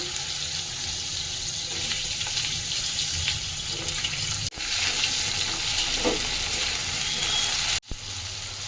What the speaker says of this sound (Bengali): তেলটা আমার গরম হয়ে গেছে আমি একটু পটলটা ভেজে নিচ্ছি